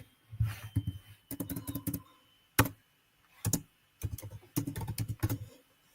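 Bursts of typing on a computer keyboard, nearby and fairly quiet, in quick clattering runs separated by short pauses, with no talking.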